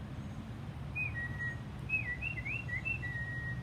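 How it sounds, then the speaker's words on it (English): Outdoors, thin high chirps and warbling whistles like baby birds come in short, repeated phrases over a low background rumble. "Do you hear any birds or baby birds?"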